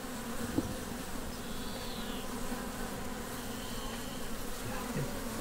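Honey bees buzz steadily throughout a hive holding thousands of workers, a dense continuous drone with no one talking.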